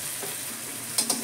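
Cumin, turmeric and Kashmiri chili hit hot oil in a pan that already holds fried ginger, giving a brief steady sizzle with two sharper crackling bursts near the end; no one talks.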